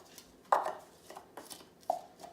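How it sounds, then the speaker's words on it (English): Chopped onions are dumped into a pressure cooker for split pea soup, heard as a few soft, close thuds and scrapes against the pot spread over about two seconds, with no talking. "we're going to dump in all the onions"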